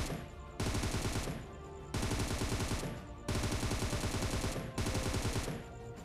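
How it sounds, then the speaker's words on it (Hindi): Automatic rifle fire with a light grip attached in PUBG Mobile, four sustained bursts of rapid shots separated by short pauses, loud and close with no talking. "यहाँ पर मैं फायर कर रहा हूँ और आप रिकॉइल जस्ट आपका सामने दिख रहा है"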